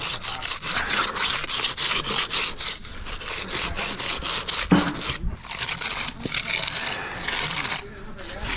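A float rubs back and forth across a wet concrete surface in quick, rhythmic gritty strokes, close and steady, with a short thump partway through.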